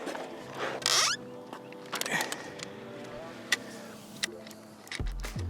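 A Wallke X3 Pro full-size folding electric bike with full suspension being unfolded, giving a run of mechanical clicks, metallic clacks and short scraping rattles close by, ending with a heavier clunk as the frame locks into place.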